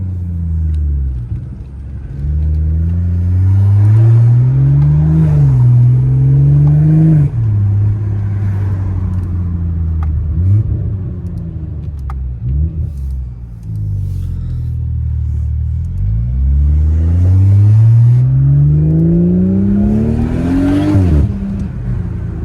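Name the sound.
BMW 540i G30 engine and exhaust accelerating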